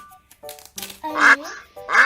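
Duck quacks from a children's zoo-animal learning toy or game, two loud harmonic calls with softer chirpy tones between, close and clear with no talk.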